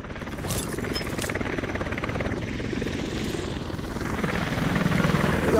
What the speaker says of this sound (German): Hört sich noch ein Helikopter an.